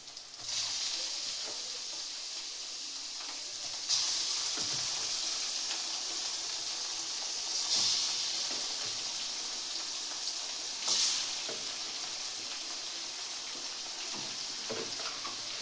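Chicken pieces drop into a pan of fried onions for a yogurt chicken dish, setting off a steady, close sizzle and hiss that swells sharply at about 4, 8 and 11 seconds as more goes in or gets stirred, with no talking.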